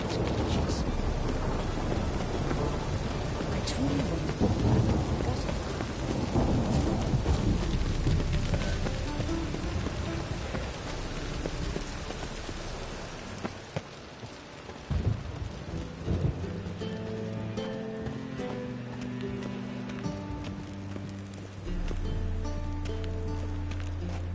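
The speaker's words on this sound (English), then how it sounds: "A storm, damn it." A thunderstorm with steady, heavy rain and deep rolling thunder builds and fades across the span, loud and enveloping, with a low rumble persisting toward the end.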